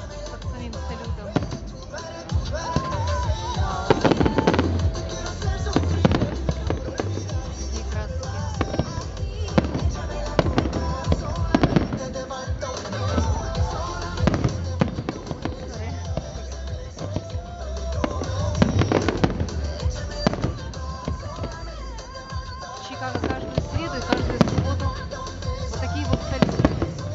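A fireworks salute bursts overhead in continuous close booms and crackles, loud and dense for the whole stretch, with people talking faintly beneath.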